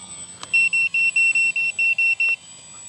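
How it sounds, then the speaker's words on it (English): The transmitter of an FMS Ranger V2 1220mm RC plane beeps during flight, giving a rapid series of about nine short, even electronic beeps after a single click, close and clear. "just let that beeping happen"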